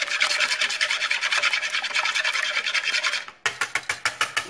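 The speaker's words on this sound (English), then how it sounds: "We're going to take our whisk here. We're going to beat that egg." A whisk beats an egg in a bowl for meatloaf, a quick rhythmic scraping clatter of many fast strokes, close and loud, pausing briefly before resuming in slower distinct strokes.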